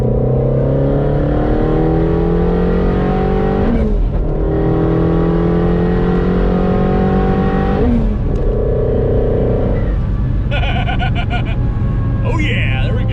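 Twin-turbo Ford Mustang GT350R accelerating from inside the car, loud continuous engine roar climbing in pitch through several gear changes, with a brief clatter near the end and no speech over it.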